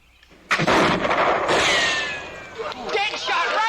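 A rifle shot at a shooting target at a frontier turkey-shoot contest, a sharp sudden crack followed by a lingering loud report, with voices and crowd chatter around it.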